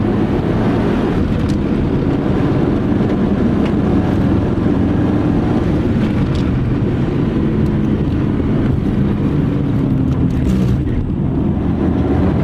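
A race car circling the Magny-Cours track on light throttle, a loud, constant engine drone heavily mixed with wind rush across the whole stretch, with no clear revving peaks.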